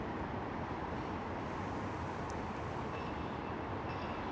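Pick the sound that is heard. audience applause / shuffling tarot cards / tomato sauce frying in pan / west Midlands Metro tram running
west Midlands Metro tram running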